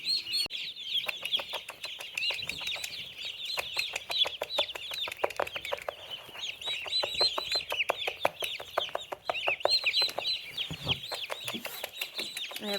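Mother hen clucking continuously in rapid rhythmic bursts as she calls chicks and turkey poults to food, up close, with soft peeping and occasional rustling around her and no talk.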